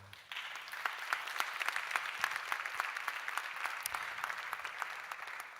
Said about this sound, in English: could we please give a round of applause to DP World?